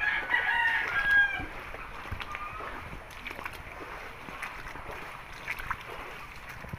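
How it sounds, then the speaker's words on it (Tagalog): A rooster crows loudly near the start, followed by scattered clucking from chickens by their coops in an open outdoor setting after a flood. "Tangkal ng manok."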